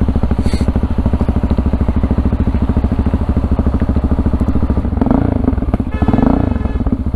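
Motorcycles on a group rideout in the Netherlands rumble loudly and steadily up close, with a continuous pulsing engine drone and a brief surge of extra engine noise near the end.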